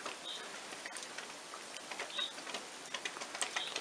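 Soft, steady patter of rain with scattered drips and light ticks, quiet and continuous with no voices, falling on feral pigeons in Montcuq, Quercy Blanc, France.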